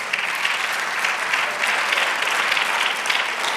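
A church congregation breaks into sustained applause during a Spanish-language sermon, a dense, even wash of clapping from many hands lasting several seconds.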